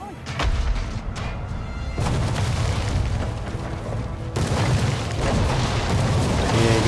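A naval bombardment of a harbour in the city-building game Anno 1800: loud, heavy booms of cannon fire and rumbling impacts that come in successive waves, dense and close.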